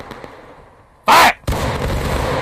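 A single musket volley fired on command in the War of Rights video game, a sharp loud crack near the middle followed by a lingering rumble of smoke and echo; no talk.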